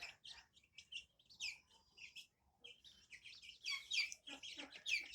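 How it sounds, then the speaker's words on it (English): A brood of 15 chicks and 2 turkeys peeping indoors, with high, thin chirps coming in overlapping clusters that grow busier and louder toward the end, close to the listener. "There's 15 chicks and 2 turkeys."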